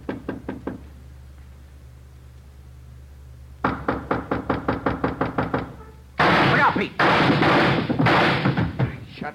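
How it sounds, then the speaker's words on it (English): Sharp, loud bursts fired through a door in an old police radio drama, first a few light knocks, then a rapid series of hard impacts, then dense loud bangs at the end. "Shot right through the door."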